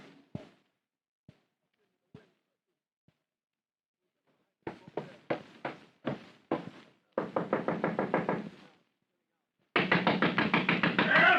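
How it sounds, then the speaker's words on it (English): Knocking on a door: a few scattered single raps, then several bursts of rapid, loud, insistent pounding that grow more urgent toward the end, with no voices. "Come in, don't knock my door down."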